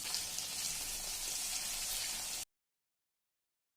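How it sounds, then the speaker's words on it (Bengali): Chopped onions frying in a pan give a bright, steady sizzle for about two and a half seconds, then cut off abruptly to silence. "এবার পেঁয়াজটা দিয়ে ভাজা হবে যতক্ষণ না পেঁয়াজের কালারটা চেঞ্জ হয়ে আসছে"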